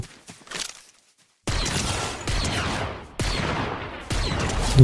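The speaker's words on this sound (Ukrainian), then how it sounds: "Двоє стріляються" Gunfire in the video game Fortnite: after a short gap of silence, several loud, dense bursts of shots crackle one after another, with a quick burst at the very start.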